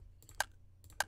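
Keys click on a computer keyboard, two distinct sharp keystrokes close up over a faint low hum, separated by a short pause with softer taps.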